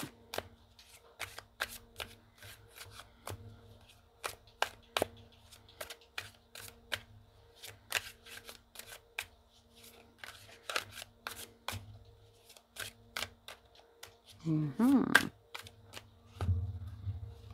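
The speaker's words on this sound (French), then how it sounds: "on va terminer avec une petite carte du tarot" A deck of tarot cards is shuffled in quick, soft riffling bursts repeated at irregular intervals, quiet and close, with a brief louder handling noise near the end.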